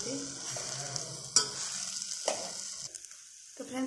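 Crumbled maize roti being stirred in a frying pan with a spoon, soft scraping strokes over a light sizzle, close and steady with a few sharper scrapes.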